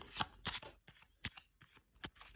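Tarot cards handled and shuffled while one is drawn for a reading: a quick series of soft, papery riffles and flicks, about half a dozen close taps in an even rhythm, quiet and alone with no talk.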